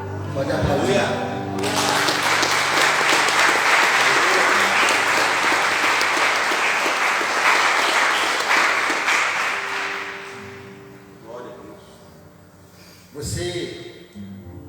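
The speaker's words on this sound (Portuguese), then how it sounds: "Pode aplaudir." A church congregation bursts into loud, sustained applause for about eight seconds, then it thins out and a voice speaks over scattered last claps.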